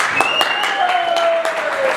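Applause from a health expert panel convention audience as a panelist walks up, steady clapping throughout with a voice speaking over it.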